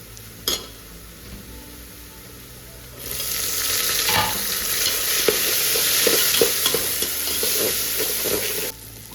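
Tomatoes hit a pan of already-roasted ginger-garlic paste and sizzle loudly, a steady frying hiss with intermittent stirring scrapes, after a brief quiet opening with a single knock.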